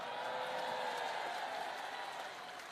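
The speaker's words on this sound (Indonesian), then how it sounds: "Tapi sebenarnya jangan tepuk tangan." Applause from an audience at a Christmas gathering, a faint, distant wash of steady clapping that fades slightly toward the end.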